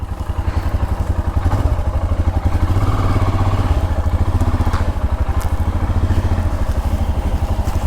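A Royal Enfield Himalayan motorcycle engine thumps steadily at idle, close and loud, with a rapid even pulse and some mechanical clatter and no talking.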